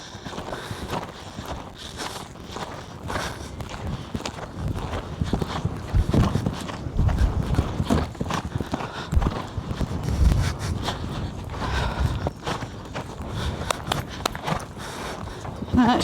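A horse being schooled in canter, its hooves clip-clopping in a steady rhythm close by, with a rider's voice giving instructions over the gait.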